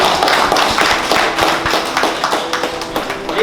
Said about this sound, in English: Applause for the four.